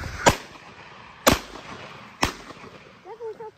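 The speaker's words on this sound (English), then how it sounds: "Shot overhead." Three sharp gunshots spaced about a second apart while hunting crows outdoors, each a loud crack with a short tail, followed by faint bird calls.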